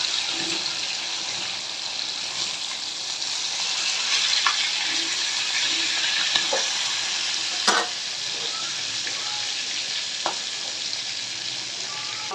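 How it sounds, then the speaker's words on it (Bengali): Small sarpunti fish frying in hot oil in a pan, a steady close sizzle with occasional clinks and stirring sounds, no voices. "তেল দিয়ে দিলাম, তেলটা গরম হয়ে গেছে। এখন মাছগুলো দিয়ে দিব।"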